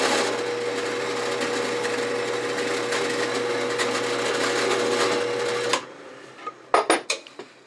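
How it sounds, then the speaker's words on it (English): A drill bores a 3/8 inch hole in a workshop with a PM2014 setup and dust collection running. A steady high whirring whine holds for several seconds, then cuts off, followed by a few sharp knocks. "So now I drill a 3/8 inch hole right here."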